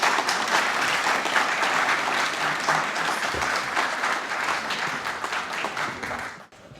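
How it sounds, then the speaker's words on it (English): Audience applause for the Archbishop at an evening event at the Hellenic Centre, a dense, steady wash of clapping from a large crowd that holds at full strength for nearly seven seconds before cutting off abruptly. "Please, an applause for our Archbishop."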